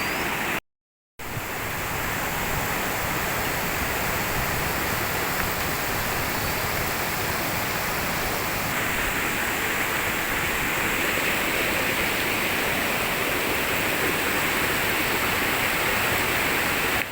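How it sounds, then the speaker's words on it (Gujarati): Rainwater overflowing from a drain on Girnar in Junagadh during heavy rain, a loud, continuous rushing roar of water that stays steady throughout, no voices. "દિવસમાં આ નાળાને અંદરથી બેથી ત્રણ વખત આનાથી પણ વધારે પાણી ઓવરફ્લો થાય છે"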